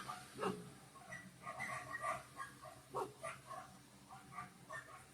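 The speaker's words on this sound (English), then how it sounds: "If you can hear all the dogs, it's my neighbors and mine" Dogs bark and yip in the distance, several overlapping at once, faint and scattered in a busy outdoor chorus.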